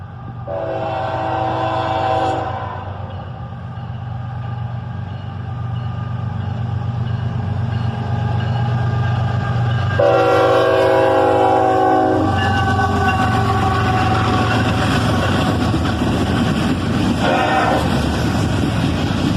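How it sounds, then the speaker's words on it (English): A northbound manifest freight train led by a single locomotive rumbles past loudly and steadily, its horn blaring in two long blasts over the rolling clatter of the cars. "Just a single locomotive on the front of this northbound manifest train"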